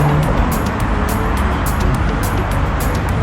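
Steady road traffic on a town street in Cagnes-sur-Mer, cars driving past in a continuous loud rumble with brief hiss surges as vehicles pass close by, no speech.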